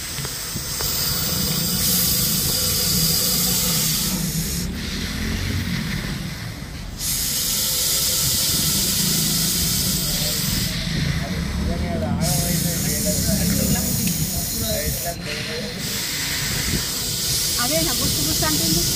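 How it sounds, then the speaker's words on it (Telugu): A dangerous snake hisses in long, loud, sustained blasts like a pressure cooker whistle, close by, broken by a few short pauses. "కుక్కర్ ఏ విధంగా విజిల్ ఇస్తుందో అదే విధంగా విజిల్ ఇస్తుంది. చాలా ప్రమాదకరమైన పాము ఇది."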